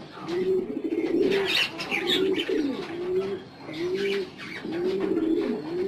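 Caged farm pigeons, including Maxi and Iranian white homers, coo in repeated throaty rolling phrases, close and fairly loud, with light chirps mixed in.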